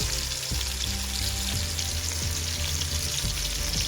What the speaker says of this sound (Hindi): चिकन ऐड करेंगे इसमें और चिकन को हम फ्राई कर लेंगे